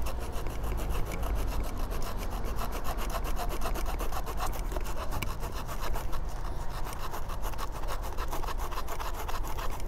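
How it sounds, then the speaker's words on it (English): A small Roxon KS2E multi-tool saw blade cuts through a thumb-thick wooden stick with a quick, steady back-and-forth rasping rhythm, close and fairly quiet. "check out the little saw blade next. I got a stick here."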